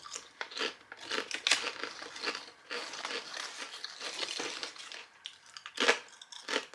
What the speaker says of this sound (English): Quite got a bite, they're really crunchy.